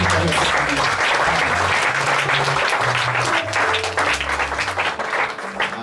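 A church congregation bursts into sustained, dense applause after a prayer, loud and close, with voices calling out over the clapping as it gradually tapers toward the end.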